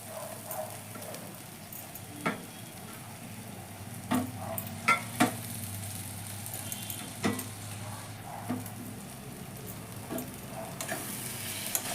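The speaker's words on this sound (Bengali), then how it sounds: "আলুগুলো মশলার সাথে একটু মিশিয়ে নেব" Fried potatoes are stirred into a sizzling masala for a katla fish curry, a low steady fry hiss broken by scattered scrapes and knocks of a spoon in the pan.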